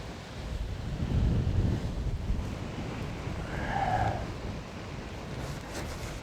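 Strong outdoor wind buffets the microphone in rough, rumbling gusts that swell and ease, loud and continuous with no other clear sound above it.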